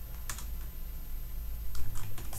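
Keys on a computer keyboard clack in two short bursts of typing with a pause between, soft and close over a low steady hum.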